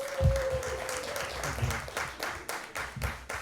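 Audience applause at a live stand-up comedy show at Gold Lion in Richmond, Virginia, greeting the returning host: a steady wash of many hands clapping, loud and sustained throughout, with a few sharper claps standing out near the front.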